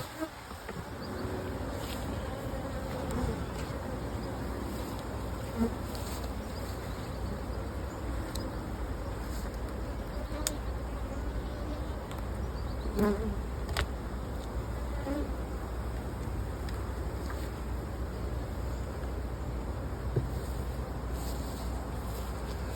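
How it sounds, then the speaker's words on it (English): Honeybees buzz steadily around an open hive during a weak nectar flow, a dense continuous hum with occasional closer insects flitting past, unbroken by talk. "The bees are up here"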